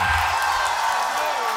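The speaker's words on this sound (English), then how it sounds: "And the crowd's going crazy" An audience at a beatbox competition cheers and whoops loudly in one sustained, wall-like roar during a solo elimination round.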